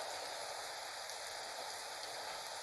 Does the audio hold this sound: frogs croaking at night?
no